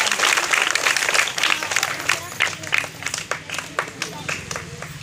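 A school audience at a village primary school's Independence Day celebration claps in a sustained burst of applause, loud and near, with scattered voices underneath.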